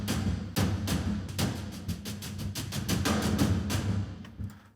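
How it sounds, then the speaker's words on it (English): Big cinematic taiko-style drums from a sampled contact patch pound in a dense, rhythmic run of deep booming hits, loud and close, with no voices. "for kind of these big cinematic taiko sounding drums"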